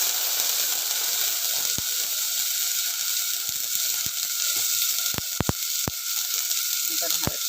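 Tomatoes hit hot oil with cumin in a heated pressure cooker, giving a steady hissing sizzle with a few sharp crackles and pops scattered through it.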